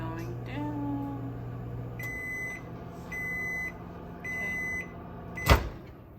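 A microwave oven hums steadily on its timer, then lets out three evenly spaced electronic beeps near the end, followed by a short clunk, with no talking.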